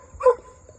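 A single short, hoarse bark from a pet dog named Kilo, close and slightly raspy, against a quiet background.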